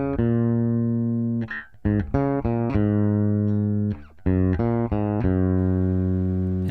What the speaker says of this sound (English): Let me just play the cell. I'm going to move it up and down the scale, and you'll hear what I'm talking about.